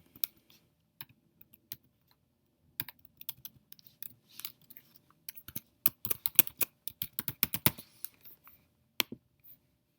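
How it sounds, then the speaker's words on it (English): Login credentials are tapped out on a computer keyboard in sparse, quiet keystrokes that quicken into a dense burst of clicks, then trail off to a few final taps. "type in your credentials."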